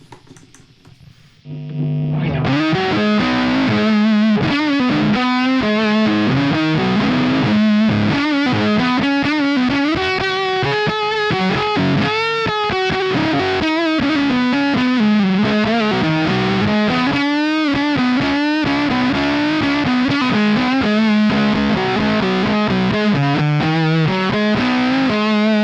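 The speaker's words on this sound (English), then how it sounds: "Really big, unruly sound that, again, I think the hollow body in the P90s is a great combination with fuzz." Played through a Fux fuzz pedal on the bridge pickup, a hollow-body guitar with P90s roars loud and unruly, a continuous stream of fuzzy, sustained riffs after a brief quieter start, with no talking.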